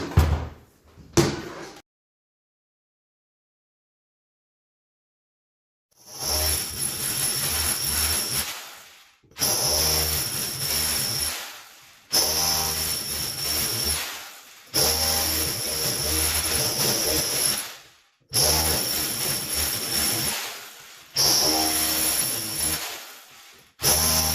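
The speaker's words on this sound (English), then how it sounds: "I'm just going to go round, keep drilling all the way through" A heavy SDS hammer drill grinds through a cavity wall in repeated bursts of about three seconds each, separated by brief pauses, loud and close, after a short silence at the start.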